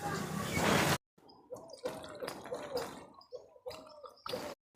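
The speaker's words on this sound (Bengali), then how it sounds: "আমগুলো আমি প্রথমে ভালো করে ধুয়ে নেব।" Ripe mangoes being washed in water, close and fairly loud, with a rushing gush at the start followed by bursts of sloshing, gurgling and dripping.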